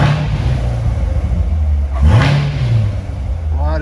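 A 2018 Corvette Grand Sport 2LT with its exhaust in track mode idles with a deep rumble, then gives one sharp loud rev that swells and falls away, heard up close.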